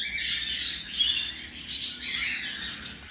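Pet birds in an aviary chirp and tweet continuously in a busy, high-pitched chorus, with a few louder squawks standing out and no one talking.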